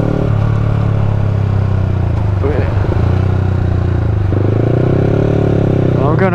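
A 2019 Yamaha YZF-R125 motorcycle being ridden on the road, its engine droning loud and continuous with shifting pitch and wind rush, and a brief rise in revs near the end.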